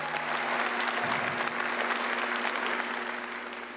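A congregation at a Catholic prayer gathering applauds steadily, a dense close wash of clapping that holds throughout and tapers slightly at the end, with a low steady hum beneath.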